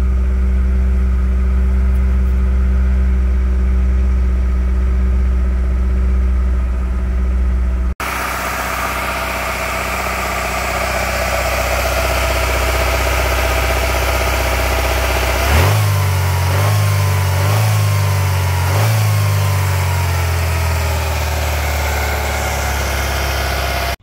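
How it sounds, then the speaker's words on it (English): A car engine idling in a parking lot with the accelerator untouched, running at high RPM; steady loud hum that shifts abruptly partway through, then rises and falls in repeated surges. "We're not touching in the accelerator pedal. It's very high RPM."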